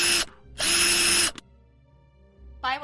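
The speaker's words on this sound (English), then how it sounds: "I make my way to the workshop and the power drill sounds begin" A power drill whirs in two loud, steady bursts with a brief gap between, followed by a low mechanical hum and a short rising whine at the end, in a workshop setting during a tabletop role-playing game.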